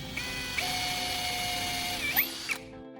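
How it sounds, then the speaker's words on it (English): Power drill boring holes into a wooden handle whirs steadily at close range, spinning up, holding a constant tone for about two seconds, then winding down to quiet. "Then I use a drill to make 2 holes at the marked positions."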